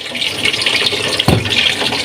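Water for shrimp sinigang bubbling and churning in a cooking pot, a steady close hiss with one brief sharper splash partway through.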